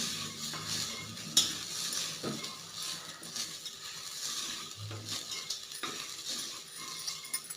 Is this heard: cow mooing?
no